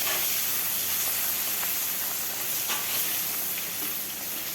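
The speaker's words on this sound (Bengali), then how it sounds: "সরিষার তেল দিয়ে দিলাম। শুকনো মাছগুলো ভেজে নেব।" Dried fish frying in hot mustard oil in a wok on a gas stove, a steady loud broadband sizzle and hiss that holds throughout with faint crackles and no talk.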